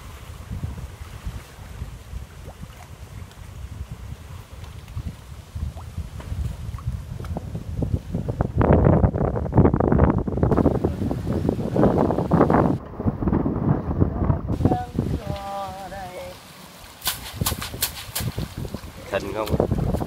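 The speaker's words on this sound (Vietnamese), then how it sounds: "Gió quá." Strong wind gusts across a river, roaring and buffeting the microphone in loud surges with brief lulls, while water laps nearby and a voice speaks at moments.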